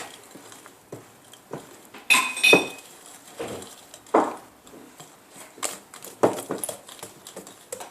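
Chocolate brownie batter being stirred in a bowl, with scattered clinks and scrapes of the utensil against the bowl, some louder knocks among quieter strokes, close by and without talk.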